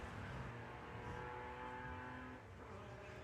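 Volkswagen drag racing cars at Santa Pod Raceway launch off the line in qualifying, a dense, loud roar of revving engines that swells and holds, then eases slightly as the cars pull away.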